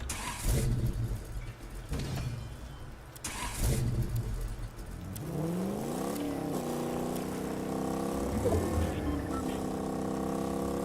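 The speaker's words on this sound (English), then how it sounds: "Car sounds really nice." A Fortnite car engine growls and revs, with pitch sweeping upward as it accelerates and then holding a steady high drone.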